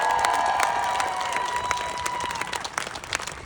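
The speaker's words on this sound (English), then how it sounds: "Clap for that." Rally crowd at a transgender rally in Santa Barbara applauding and cheering, sustained clapping with whoops and a thin high tone near the start, gradually thinning toward the end.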